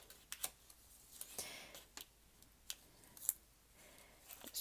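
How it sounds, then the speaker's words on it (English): Clear tape being pulled and torn for a paper snowflake craft, heard as a few sharp, close crackling rips and clicks spaced apart over a quiet background. "We're going to get a piece of tape ready."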